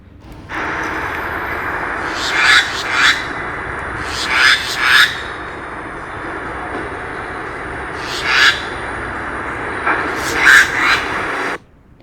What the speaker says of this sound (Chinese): 那就是八哥的叫声